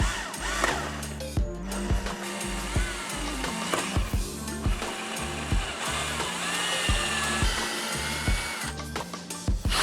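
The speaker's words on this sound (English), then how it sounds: "I went ahead and drilled all 14 holes around the enclosure, including their pilots, into the wood" A power drill bores holes and pilot holes into a wooden enclosure, giving repeated bursts of whirring motor noise with short pauses between them. It is fairly close, with no talking.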